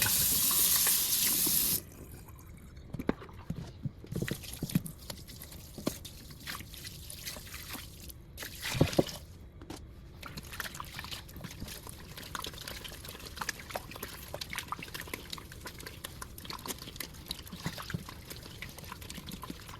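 Polishing pads rinsed under running water: a steady tap stream at first, then softer trickling, dripping and splashing that carries on close by without speech.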